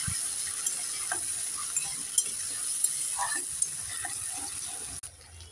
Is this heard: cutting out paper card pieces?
no